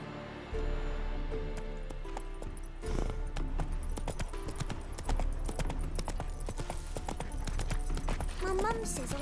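Hooves clip-clop in a steady trotting rhythm as Geralt's horse Roach moves along in The Witcher 3, close and clear, with voices talking over parts of the run.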